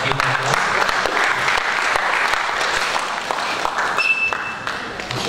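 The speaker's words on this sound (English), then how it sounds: "Let's give an applause." Audience applause closing a guest public lecture, a dense steady wash of many hands clapping throughout, loud and sustained with no talk over it.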